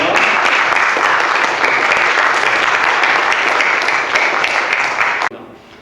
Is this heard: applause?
yes